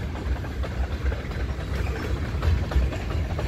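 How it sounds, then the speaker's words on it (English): A train rolls by outdoors, producing a steady low rumble of engine and wheels on rails at moderate distance, continuous and even for the whole stretch. "There's a little bonus train action."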